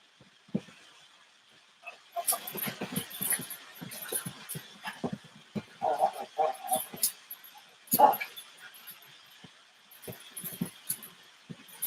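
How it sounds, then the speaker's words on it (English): Dogs playing indoors during a live chat give out scattered yips, whimpers and scuffles with jingling tags, moderately close, mixed in with a person talking. "Now you can hear my dogs playing in the background."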